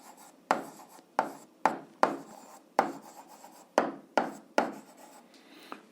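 Pen or chalk strokes as a math solution is written out for an 8th-grade algebra exercise, a series of sharp scratchy taps and short rubbing strokes at an irregular pace, close and fairly clear, with no talking.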